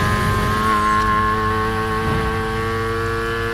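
A 1970 Volvo Amazon P130 in Need for Speed Heat, fitted with a rotary engine, drones at a sustained high rev with a steady buzzing whine and light tire noise, loud and continuous throughout.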